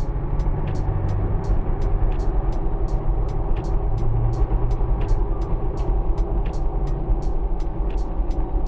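An off-road vehicle fitted with a throttle upgrade accelerates under a steady, loud engine roar, with a regular ticking clicking through it at even intervals.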